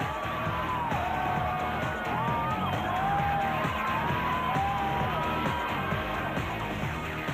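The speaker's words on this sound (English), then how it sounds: "The special vehicle category leaders crossed the line to the tumultuous applause of their huge fan base." A large crowd cheers and roars at the finish line of the 2004 Toyota 1000 off-road desert race as special vehicle category leaders cross. The dense, steady wall of cheering and whooping stays loud and close, with rising shouts throughout.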